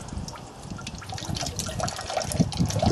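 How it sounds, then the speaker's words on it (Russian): Leftover grape juice is poured into the net of a screw grape press, a soft continuous trickle and splash of liquid, close and fairly quiet, with no voices. "Здесь на нем немножечко остается сока, поэтому выливаем его внутрь в сетку, он опять же попадает в емкость для сбора сока."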